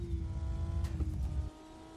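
A car engine in the video game Car For Sale Simulator, revving with a steady low drone and a couple of brief higher whines, then cutting off sharply to a faint hum after about a second and a half.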